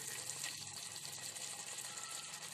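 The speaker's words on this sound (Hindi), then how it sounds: "इसको थोड़ा सा भूनेंगे और उसमें पानी डाल देंगे।" Water is poured into a pot while making aloo matar vegetable pulao, a steady broadband gushing and splashing that runs without pause for the whole stretch, close and alone with no talk.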